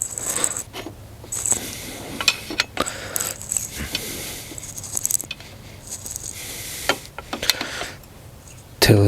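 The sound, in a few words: turning Subaru STI AC clutch pulley off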